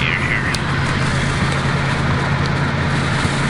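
A Mustang GT with 30 lb injectors accelerates after shifting into fifth gear, its engine a steady, loud low drone with road noise under a passing voice.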